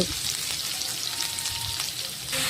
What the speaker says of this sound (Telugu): ఇప్పుడు అది కొంచెం ఫ్రై అయ్యాక ఆనియన్స్ యాడ్ చేసుకోవాలి.